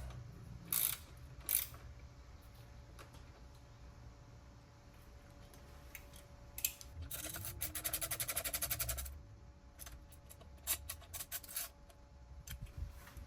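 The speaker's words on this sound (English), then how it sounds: "just going to tighten the rest of these up" A ratchet tightens alternator bracket bolts on a Subaru EZ30R engine fitted with a supercharger, heard as quiet, close bursts of rapid clicking, a longer run in the middle and a few short ones before and after, over low background hum.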